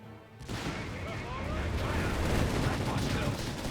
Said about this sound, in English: Shots fired, shots missed.